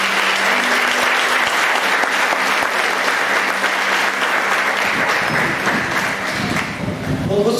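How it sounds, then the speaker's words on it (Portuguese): A church congregation at an anniversary service applauds loudly and continuously for several seconds, with voices rising through the clapping near the end. "Aplauda o Senhor,"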